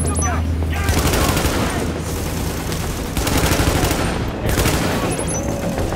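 Rapid, continuous bursts of automatic gunfire rattle loudly with dense, overlapping shots and brief pauses, a firefight in the video game The Division in Times Square.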